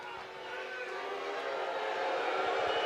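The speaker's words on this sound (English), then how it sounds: "And the crowd letting Scott Mayer hear it." Crowd noise from spectators at a college softball game between Alabama and Oklahoma, a broad distant roar that swells gradually with runners on first and second and two outs, faint and steady without a clear peak.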